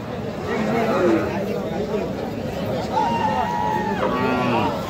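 Cows and calves of a local breed at an outdoor cattle market, with a couple of drawn-out moos rising over a continuous hubbub of nearby people talking.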